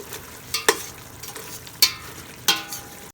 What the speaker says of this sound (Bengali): কিচেনে এসে দেখি হালিমের জন্য গোশ রান্না করা হচ্ছে